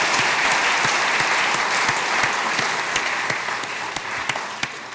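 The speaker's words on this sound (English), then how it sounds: "So let's give a big round of applause to Dallas." Sustained audience applause at a Dallas jury improvement luncheon, dense and steady clapping from a large crowd for about five seconds, slowly thinning toward the end.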